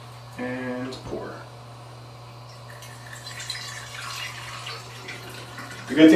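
Film-developing chemical from a Cinestill C41 kit pours and trickles steadily through a funnel into a bottle, with a brief voice at the start and a clunk near the end.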